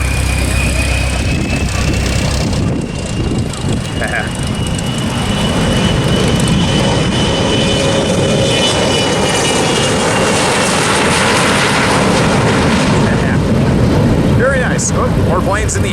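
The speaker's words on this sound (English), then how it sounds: "here's this jet about to take off." A jet engine roars loudly and steadily, building as the aircraft takes off at Palomar Airport, with people talking nearby over the constant rumble.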